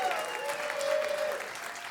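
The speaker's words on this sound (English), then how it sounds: "Give yourselves a round of applause for getting suckered into it." Applause from a keynote audience at SXSW fills a hall with steady clapping for about two seconds.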